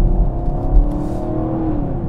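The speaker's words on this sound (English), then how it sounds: "There's just nothing that sounds quite like a small block Chevy engine." A 2017 Chevrolet Camaro SS with a small-block V8 growls steadily at close range, its loud, deep engine note holding through the clip with a slight swell partway in.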